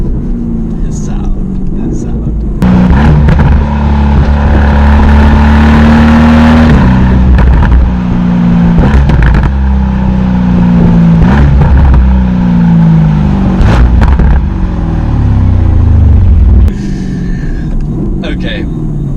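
A matte grey Mercedes-AMG GT R Pro with green livery, its engine revving loudly in repeated surges and a deep rumble, with a person talking over it.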